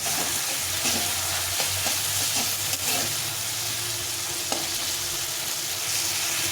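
Tomato and spice paste sautéing on low heat for a winter pea lentil and vegetable dish, giving a steady soft sizzle with occasional light stirring scrapes throughout, close and continuous with no talking.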